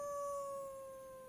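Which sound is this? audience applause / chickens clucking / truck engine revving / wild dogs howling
wild dogs howling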